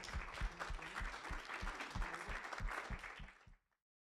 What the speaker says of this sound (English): I would like to give a round of applause to our panelists